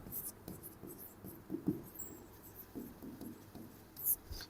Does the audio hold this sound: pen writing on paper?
yes